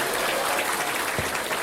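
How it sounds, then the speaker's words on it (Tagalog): Brief burst of applause from an audience at the close of an AIM Global business seminar, steady clapping at moderate level, fairly distant. "Palakpak!"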